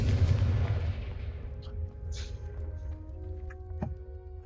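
Confringo fire spell explosions in the video game Hogwarts Legacy: a loud booming blast opens the clip and rumbles as it fades, followed by a few smaller crackling bursts.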